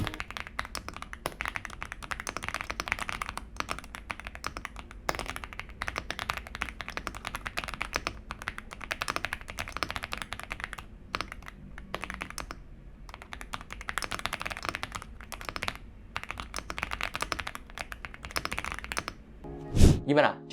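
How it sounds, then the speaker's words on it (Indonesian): Typing on an Epomaker X Aula F75 gasket-mount mechanical keyboard, a steady stream of close, soft creamy keystrokes with occasional louder spacebar-like thocks, ending in a few heavier taps. "kalau kalian mau dengar suara typing testnya, kalian bisa dengar suaranya sebagai berikut."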